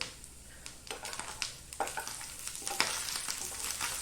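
Grated coconut roasting in a pan for erissery, giving a steady dry sizzle with scattered scraping stir strokes and light clinks, close and moderately loud, with no talking.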